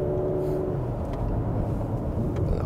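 A Porsche Macan GTS with a bi-turbo engine accelerates as the driver gives it more gas, a steady, dense engine drone heard from inside the cabin with no voices.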